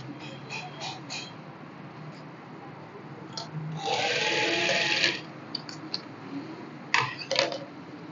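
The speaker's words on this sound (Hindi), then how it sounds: "बिल्कुल मार्किंग के ऊपर आप नीचे से पैपिंग रख के उसी पे सिलाई लगानी है" A sewing machine runs in one steady burst of about a second, stitching piping onto a kurta along a marked line, with a few soft clicks and handling sounds before and after.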